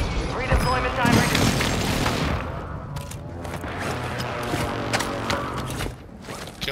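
Airstrike explosions in Call of Duty: Warzone 2.0 on Ashika Island, with heavy rumbling booms at the start that roll into scattered gunfire and thuds, with game voice lines over the top.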